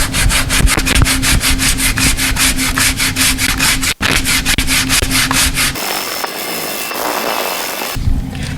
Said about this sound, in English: we're just going to sand it down very lightly until it's fairly even